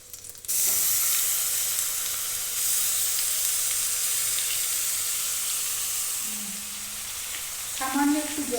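Paste of ginger, coconut, green chilli and yogurt hits a hot pan for cauliflower pulao, bursting into a loud, steady sizzle that settles into a continuous hiss, with a brief clink of utensils near the end.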